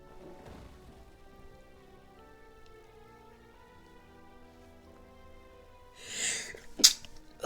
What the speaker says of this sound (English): Damn, that was a powerful sneeze.